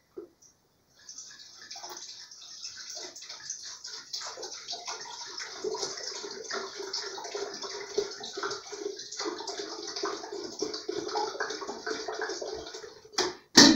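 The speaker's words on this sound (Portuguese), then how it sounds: "Vamos colocar 1 litro de água para ferver." Water streams steadily into a kettle or pot for tea, a continuous splashing pour that builds and fills for about twelve seconds after a brief knock, with no voices.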